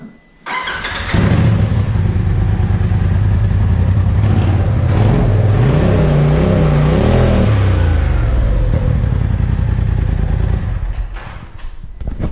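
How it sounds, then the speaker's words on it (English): A 2022 Polaris RZR Turbo R UTV engine with stock exhaust starts and revs hard, rising and falling in pitch through a throaty exhaust roar, then settles back toward idle near the end. "we're gonna go ahead and kind of do just a quick rev of the stock exhaust"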